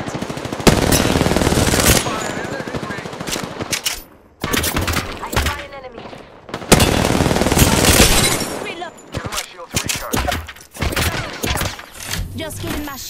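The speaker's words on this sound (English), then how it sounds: "I'm getting shot at." Rapid automatic gunfire from the Apex Legends video game on PC, loud and close, in long sustained bursts broken by brief pauses, with thuds and some speech mixed in.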